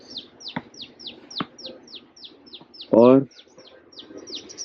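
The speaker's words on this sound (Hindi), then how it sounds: "यहाँ पे पक्षियों की आवाज़ सुनिए." Small birds chirping repeatedly in quick high tweets at an ancient hilltop site in Rajgir, Bihar, with a louder harsh call bursting in briefly near the middle and a voice speaking faintly underneath.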